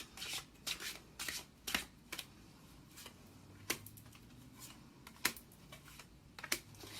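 Tarot cards are shuffled and handled in a quiet room, giving a run of soft, close riffling snaps and flicks at irregular intervals, faint and with no talk.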